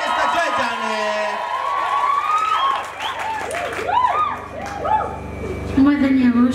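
Audience applause and cheering for a guest as she is introduced at a Kikuyu gospel event, a steady crowd roar mixed with music and a voice over it, swelling again near the end.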